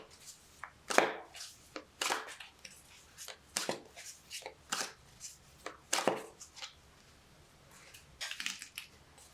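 Tarot cards are shuffled up close in quick, crisp riffling bursts, each a short papery flutter, repeating in an irregular rhythm with brief pauses between.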